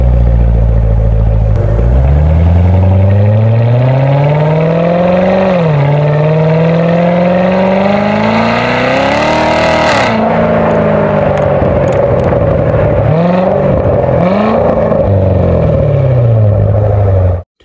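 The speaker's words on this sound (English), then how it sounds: "Chevrolet Corvette C7 Z51 Performance Package" A Chevrolet Corvette C7 Z51 Performance Package V8 revs loudly and continuously, the pitch climbing, dropping and rising again through several swells, with no talk.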